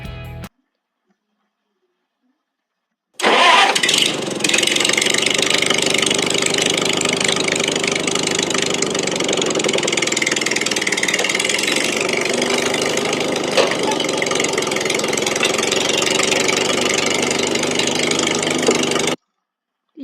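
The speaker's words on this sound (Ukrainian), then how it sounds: "як звучить мотор трактора" A tractor engine in a village starts up abruptly and runs at a steady, loud idle with a constant mechanical drone, then cuts off.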